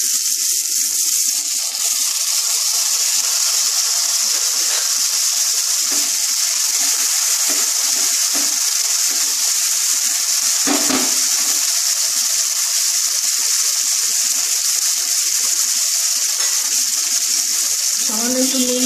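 Eggplant fries in a pan with a loud, constant hissing sizzle that runs the whole time, with a few faint thumps and brief background sounds.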